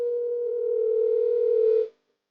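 A single steady telephone tone hums for about two seconds, then cuts off into silence.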